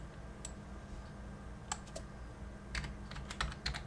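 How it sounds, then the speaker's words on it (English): Web address being typed on a computer keyboard, with a few sparse key clicks followed by a quicker, denser run of keystrokes, close and fairly quiet over a low steady hum. "So if I type in"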